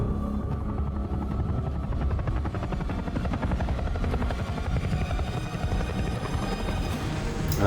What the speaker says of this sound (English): the helicopter jump